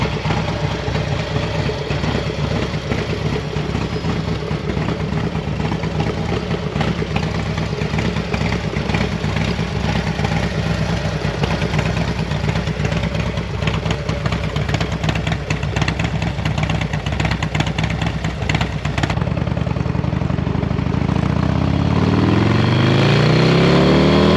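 A Harley-Davidson M8 motorcycle fitted with a Trask billet clutch basket runs steadily, a loud close engine drone with clattery mechanical texture, then revs rise and fall near the end; no talking.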